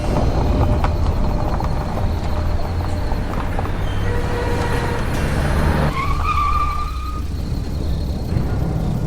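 A car drives along a road at night, with a continuous loud engine and road rumble and a steady whoosh of tire noise. A brief higher tone cuts in partway through.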